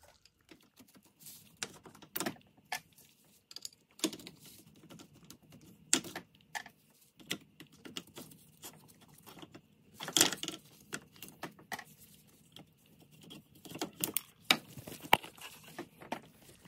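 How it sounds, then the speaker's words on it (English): Metal clips come off fuel injectors on a 5.7 HEMI engine in a Dodge Charger, Challenger or Magnum, heard as faint, irregular clicks and small metallic taps scattered throughout, close by with no talking. "we're gonna take these metal clips off the old injectors"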